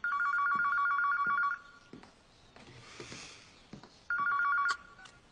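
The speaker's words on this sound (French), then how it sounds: "Je te promets que le téléphone va bientôt sonner." An old-style telephone bell rings loudly in a film scene, one long ring, a pause with faint room noise and movement, then a second ring cut short.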